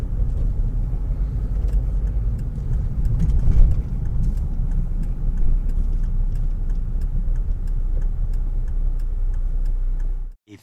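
A car drives along a road from Hythe to Folkestone, its steady engine and tyre rumble running continuously and close, with faint ticking over it, before cutting off abruptly at the end.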